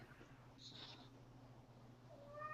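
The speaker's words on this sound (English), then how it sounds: "Did somebody's cat meow?" A cat gives a faint meow or two under a steady low motor hum, distant and quiet, with no talk.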